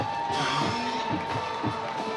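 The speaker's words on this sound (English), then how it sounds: "This Covington crowd will give a standing ovation to the defense as they come off" Home crowd at a Covington High School regional football playoff game against Destrehan cheers a standing ovation for its defense, a steady broad roar of voices filling the stands throughout.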